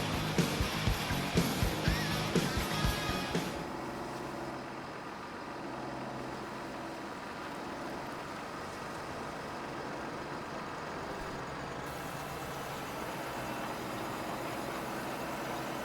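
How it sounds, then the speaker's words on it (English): Deep, steady tractor engine rumble from the Farming Simulator video game, running continuously and fairly loud, with a busier mechanical clatter over the first few seconds before settling into an even drone. "I love the sound of this tractor though. It's got like a really deep rumble to it."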